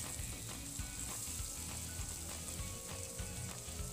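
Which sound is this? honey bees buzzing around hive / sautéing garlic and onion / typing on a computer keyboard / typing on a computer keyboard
sautéing garlic and onion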